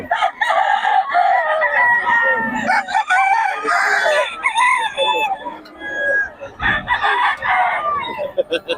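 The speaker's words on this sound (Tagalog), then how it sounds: "Solid mga manok ni Boss Batang ngayon" Fighting roosters crow repeatedly and overlapping, loud and close, with several birds calling over one another and some clucking between crows.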